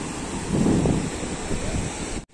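Sea waves washing ashore with steady cold wind buffeting the microphone at Digha Nature Park ghat beach, a continuous broad roar swelling briefly near the start, no voices, ending abruptly.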